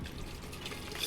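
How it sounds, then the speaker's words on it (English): Water trickles and splashes into a plastic bottle, a faint close-up pour running continuously for about a second with no talking. "I'm putting my water in here"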